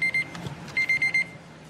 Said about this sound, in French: jusqu'à ce que l'alarme de son téléphone retentisse